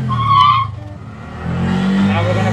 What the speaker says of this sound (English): Now we're gonna press the brakes even harder. We wanna see how much it's gonna skid.